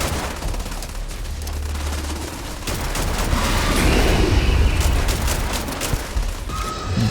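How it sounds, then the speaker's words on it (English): Rapid pistol gunfire rattles through a video game fight against alien Terramorphs, the dense crackle of shots swelling into a loud continuous barrage with low rumbling impacts underneath. "Let's fight Terramorphs with pistols"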